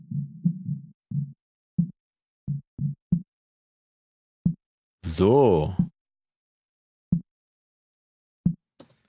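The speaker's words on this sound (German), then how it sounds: "dass wir wirklich nur noch die Impulse von der Snare hören" Isolated snare drum track passed through a noise gate, leaving short clipped hits separated by silence, with a brief spoken word partway through.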